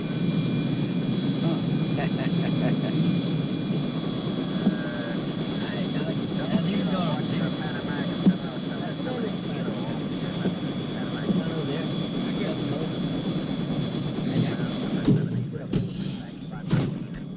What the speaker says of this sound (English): isn't that your helicopter over there?